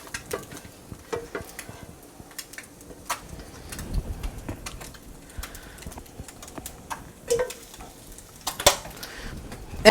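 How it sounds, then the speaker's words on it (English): Sweet potato and breakfast sausage hash scooped from a pan back into a serving dish, scattered soft clinks of utensil against cookware and light scraping, quiet and close, ending on a sharper knock. "So we're going to, again, put it back into the dish."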